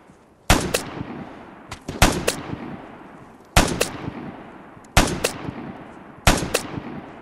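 Gunfire from an enemy player in the video game Vigor: five sharp, loud shots spaced irregularly about a second or more apart, each followed by a long ringing echo tail.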